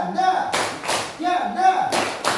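Students in a classroom clap their hands in short rhythmic bursts, three quick rounds of claps alternating with voices speaking between them.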